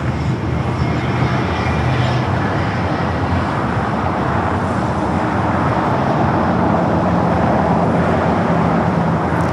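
A Japan Airlines Airbus A350-1000 arriving from Osaka at Los Angeles International Airport, heard as a steady, broad jet roar that holds at an even loudness throughout, with no voices.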